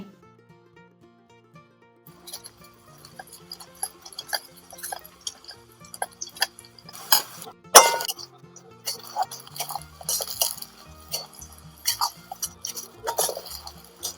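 Peanuts are sautéed in a pan over a wood-fired chulha outdoors in a farm field while Khandeshi brinjal bharit is prepared. Sparse dry rattles and sharp clinks against the pan build into denser bursts of scraping and clattering near the middle and end.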